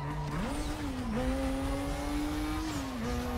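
In the racing game Need for Speed Most Wanted (2005), a car engine drones steadily and climbs in pitch as it revs, dipping briefly at gear shifts, with tire and road noise underneath and no speech.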